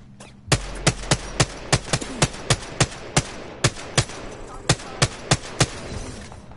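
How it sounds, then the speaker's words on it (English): Rapid gunfire rings out in an Apex Legends battle, around fifteen sharp, loud shots in a fairly even rhythm with brief gaps, close and dominant over faint background game sound. "They're shooting at me."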